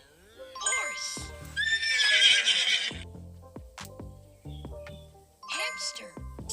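A cartoon horse in a children's animal video gives a loud, bright whinny, followed by a series of hollow clip-clop hoof beats and chiming tones, with a voice naming animals over the sounds.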